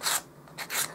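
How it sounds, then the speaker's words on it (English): Rasping strokes of sandpaper on small wooden dollhouse furniture, three quick scrubbing passes close by, brisk and uneven in rhythm. "So we're going to start some simple sanding"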